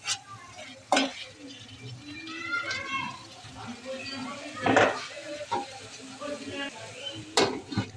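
Duck meat stirred and fried in a pan: a steady sizzle under scraping and clinking of a spoon against the pot, with a few sharp metallic knocks and a voice talking throughout.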